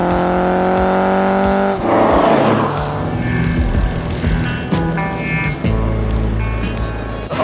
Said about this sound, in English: This was a wonderful car, a mid-engine mini Ferrari.